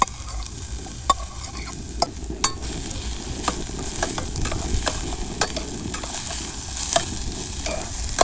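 Onions and capsicum fry with a steady sizzle in a pan while a utensil scrapes and stirs in regular strokes at a camp stove during winter camping; close and alone, with no voices.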